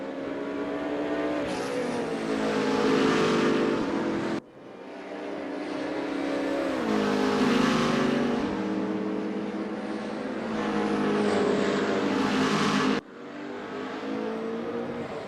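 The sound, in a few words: Corvette and BMW race cars racing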